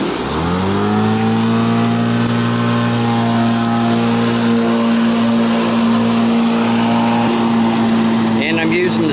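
A Black & Decker battery-powered lawn mower with a new battery spins up and runs at a steady, loud, sustained motor whine close by, with no pauses.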